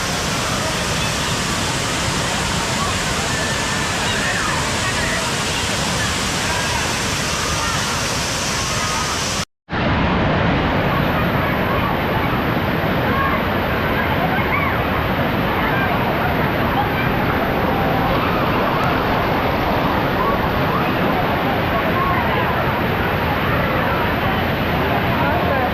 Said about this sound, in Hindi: यहाँ से हम गए तिरुपरप्पू वाटरफॉल्स, जो कि कन्याकुमारी के कुलशेखर टाउन में है।